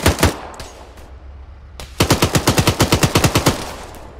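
Machine-gun fire in a military video game: a few scattered single shots, then a rapid, evenly spaced burst of about fifteen loud, close rounds.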